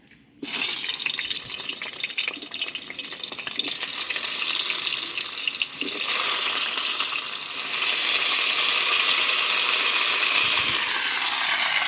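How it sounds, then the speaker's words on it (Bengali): Steady, loud sizzling of cauliflower and potatoes frying in a hot pan, continuous throughout with occasional stirring clatter and no voices. "এখন আমি ফুলকপি আর আলু একসাথেই ভেজে নেব।"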